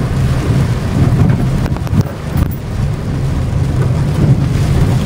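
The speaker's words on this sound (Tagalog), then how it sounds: "Grabe ang lakas kasi ng ulan, mga kalingap ko. Parang binubuhos ang ulan." Heavy rain pours down steadily in a dense, continuous roar with a low rumble underneath, no voices.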